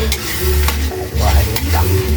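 Browned pork and hotdog stir-fried in a pan, a steady close sizzle with repeated scraping and stirring strokes throughout, no voices.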